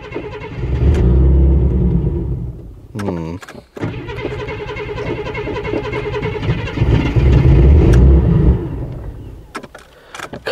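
An abandoned Ford Granada Mk2 2.8 Ghia X is cranked repeatedly, its starter churning in long bursts that stop and resume without the engine catching, with a person talking over parts of it.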